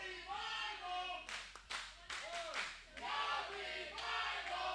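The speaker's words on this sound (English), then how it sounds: "Now the crowd chanting, no revival." A wrestling crowd at an EPW Saturday Night Battle Ground show chants and claps in the distance, a rhythmic roar under a commentator talking over it.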